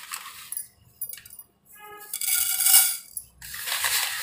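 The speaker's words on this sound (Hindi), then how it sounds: "और यहीं पर मैं डालती हूँ जो मेथी" Fenugreek seeds poured into a UP/Bihar-style raw mango pickle make small scattered rattles and clinks in short bursts, with a denser patter of grains pouring near the end and quiet gaps in between.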